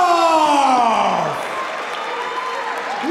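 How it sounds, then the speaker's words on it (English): A crowd at a Blood And Glory fight night applauds and cheers the fighter Milen, a loud, dense wash of clapping and voices that fades slightly, with an announcer-like sweeping tone sounding over it. "And a big applause for his opponent"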